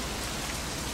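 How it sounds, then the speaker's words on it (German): Rain falls steadily as a dense, even hiss of drops on a surface, continuous and close with no other sounds. "Jetzt regnet es."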